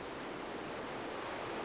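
Ocean surf waves washing in steadily along an Australian beach, a broad continuous rush with no distinct breaks, moderately faint and heard alone.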